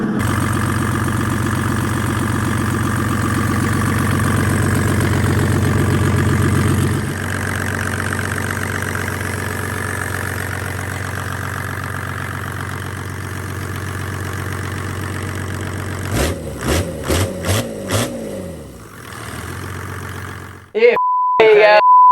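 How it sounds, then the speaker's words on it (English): A loud Mercedes OM606 diesel race engine, run on a stand with no intake or exhaust, idles with a steady, rough drone, drops to a lower rumble, then revs in a few quick bursts before cutting off with a beep. "That's the race motor OM606 for the E46 wagon. This is the first time we've seen it run."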